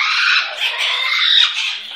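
A pet bird lets out a loud, harsh, sustained squawk at close range, raspy and continuous for a couple of seconds with no talking over it.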